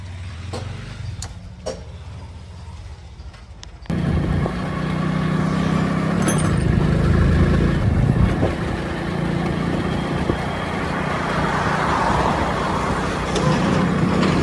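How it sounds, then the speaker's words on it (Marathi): A vehicle on the road, first a quieter idle with a few clicks, then a sudden jump to a loud, steady engine and road rumble with wind noise that continues for the rest of the run. "आपली गाडी घेऊया आणि मग आपण जाऊया"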